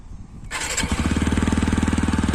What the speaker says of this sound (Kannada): ನ್ಯೂಟ್ರಲಿಗೆ ಹಾಕೋಣ ಆ್ಯಂಡ್ ಇಂಜಿನ್ ಸ್ಟಾರ್ಟ್ ಮಾಡೋಣ